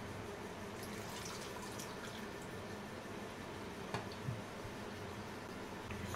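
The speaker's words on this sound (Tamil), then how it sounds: "புளி கரைச்ச தண்ணி கொஞ்சமாக புளி தண்ணி ஊற்றுங்க" Tamarind water is poured into a cooking pan while making anchovy (nethili) fish thokku. A soft, steady trickle runs quietly throughout, with a couple of small clinks near the end.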